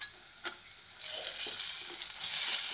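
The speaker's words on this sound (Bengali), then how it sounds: "কষিয়ে নেব একটু।" Onion, green chilli, garlic paste and ginger paste sautéing in a pan for a masala veggie roll filling, a steady soft sizzle with occasional stirring scrapes, heard alone.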